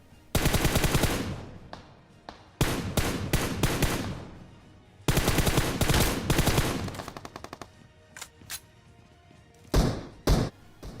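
M4 assault rifle fire in the battle royale shooter BGMI: three long, loud automatic bursts of rapid shots, then scattered single shots and a couple of short bursts near the end, with no talk.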